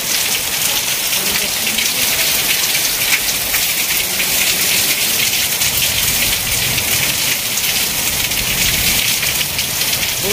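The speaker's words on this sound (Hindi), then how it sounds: "देखो प्रबल वर्षा" Heavy rain pours steadily in a village in Odisha, a dense, loud, unbroken hiss of drops drumming on surfaces with no pause throughout.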